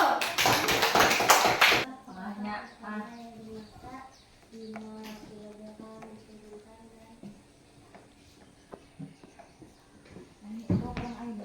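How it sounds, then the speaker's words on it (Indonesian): A class claps its hands in a short, loud burst at the start, then quieter scattered taps follow under a teacher's talk, with one more brief clap near the end. "Nah, tepuk tangan dulu."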